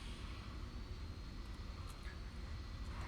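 Airliner engines in the Roblox game Flightline give a steady, even roar and hiss while the plane slows on the runway, continuous and uniform throughout.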